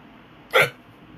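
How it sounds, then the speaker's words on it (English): A single sharp hiccup from a person during a live chai tea tasting, one brief loud burst standing alone against a quiet room. "I got the hiccups"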